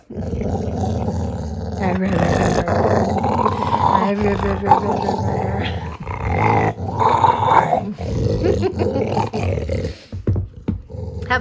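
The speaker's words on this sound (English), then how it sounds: "He sounds vicious and snarly, but this is the most cuddly, weeny little dog" A small dog growls and snarls in rough, continuous bursts close to the microphone while playing with a ball, with people talking over and between the growls.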